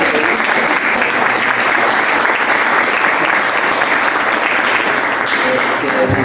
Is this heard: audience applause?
yes